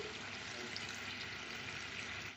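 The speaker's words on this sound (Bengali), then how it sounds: "এবার এই জলটাকে আমি মাছের মধ্যে দিয়ে দিচ্ছি" Water poured steadily into a pot of fish tamarind curry makes a continuous faint hissing splash that runs evenly for about two seconds, then cuts off.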